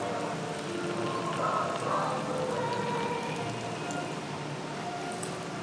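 Rain falls steadily at the Universal Studios Florida theme park, pattering on surfaces nearby as a constant soft hiss of drops with no pauses, fairly quiet overall.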